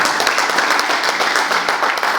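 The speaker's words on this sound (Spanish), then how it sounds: "Den un aplauso" A church congregation applauds after a prayer, a brief burst of dense clapping from many people in the hall, loud and steady throughout.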